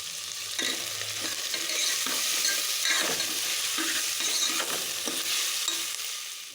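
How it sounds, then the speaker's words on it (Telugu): Onions with a little turmeric sauté in a pan for a curry, a steady close sizzle broken by repeated stirring scrapes and light clinks of the utensil against the pan. "చూడండి, ఎర్రగడ్డ బాగా మగ్గేసాయండి."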